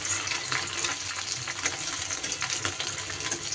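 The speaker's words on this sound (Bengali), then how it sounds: "এগুলো আমার প্রায় ভাজা হয়ে গেছে" Fish pieces fry in oil in a pan, producing a continuous dense hiss and crackle at a soft, even level, close by, with no voices.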